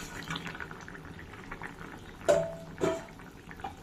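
Puti fish simmering in a mustard and poppy seed curry, a quiet bubbling with a couple of louder gurgling pops partway through, close and faint, no talking.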